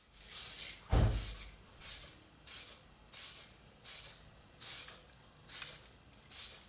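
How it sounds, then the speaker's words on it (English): Spray gun applying epoxy primer over a car body during rust hole repair: about nine short, evenly spaced hissing bursts, faint and close, with one heavier thump near the start. "Now take the epoxy primer once again and cover everything."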